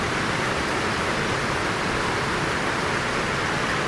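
Loud, steady rush of swollen water running high after heavy rain upstream, a dense unbroken roar filling the whole stretch with no voices over it.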